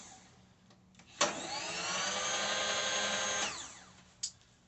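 A Bridgeport milling machine's power feed motor whirs up with a click, runs at a steady whining pitch for about two seconds, then winds down and ends with another click, fairly quiet in a still shop.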